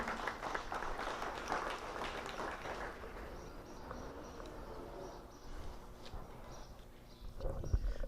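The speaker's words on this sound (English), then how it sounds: "Let's give our juniors a round of applause." Applause from a show-ring crowd at a Wisconsin Brown Swiss cattle show, a dense wash of clapping that swells early and fades, with faint hoof clops and a brief voice near the end.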